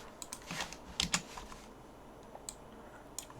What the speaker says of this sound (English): I'm just going to press 1 on the keyboard to create a constant.